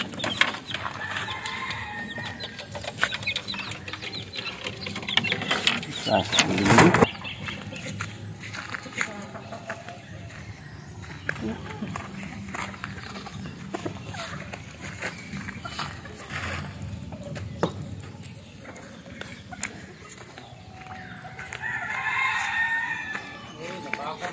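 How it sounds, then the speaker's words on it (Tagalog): Backyard chickens clucking while being fed, with a rooster crowing once loudly midway and scattered footsteps, under ongoing talk. "tapos na tayong magpakain ng aking mga alagang manok"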